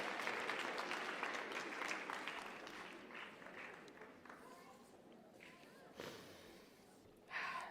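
An audience at a Bible quiz national finals closing ceremony claps and cheers loudly, and the applause gradually thins and fades with a brief surge near the end, while a voice speaks over the crowd.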